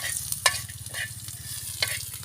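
Peanuts and coriander seeds dry-roasting in a pan over a wood-fired stove, a steady soft sizzle with scraping stirs and a few sharp clinks of a spatula against the pan.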